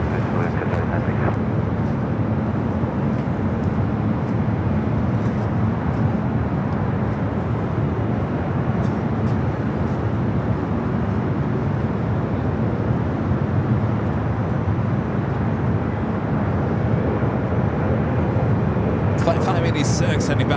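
A Boeing 777-300ER airliner at LAX airport roars steadily as a loud, continuous jet rumble that fills the whole stretch without letup.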